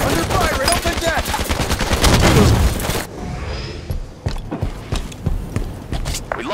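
Rapid automatic gunfire rattles in a team arena video game match, dense loud bursts with booms that ease into scattered shots and footsteps.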